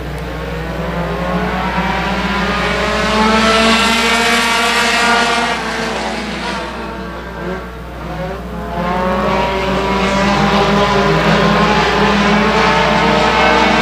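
Compact race cars in a night heat at The Rev speedway, engines droning loudly and continuously as the pack runs by, rising and falling as cars pass, with no talking.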